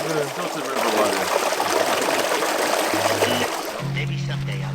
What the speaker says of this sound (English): River water. Filtered river water.